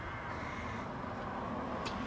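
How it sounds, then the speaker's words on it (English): Crows caw outdoors under steady wind noise, the calls blending into a constant broadband hiss with one brief sharper burst near the end. "ignore the crows and the wind"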